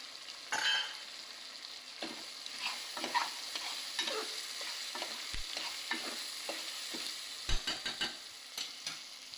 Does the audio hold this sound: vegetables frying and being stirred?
yes